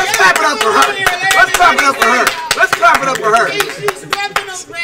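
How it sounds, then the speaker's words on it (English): People in a restaurant clap sharply for their server, a run of close, loud hand claps mixed with excited talking and cheering voices throughout. "let's clap it up for her"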